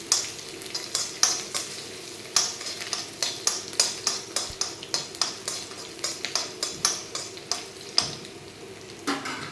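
Garlic and small shallots sauté in a pan for a Tamil dish, with a steady sizzle broken by repeated clacks and scrapes of a spatula stirring against the metal.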